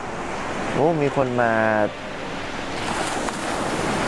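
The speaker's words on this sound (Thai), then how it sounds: "ได้ยินเสียงคลื่นอะไรเงี้ย" Ocean waves wash steadily against the shore with wind noise, while a person briefly speaks nearby.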